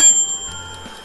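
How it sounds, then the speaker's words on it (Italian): A Russell Hobbs Cook at Home 19270-56 steamer timer alarm rings, a bright, sustained bell-like chime sounding close and clear on its own for about a second. "il timer ci avviserà con un suono"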